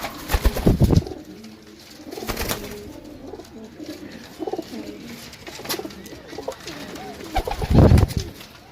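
Several pigeons coo in a loft holding a mixed batch of young and adult birds, low throaty bursts close by, the loudest near the start and again near the end, with softer cooing and rustling in between.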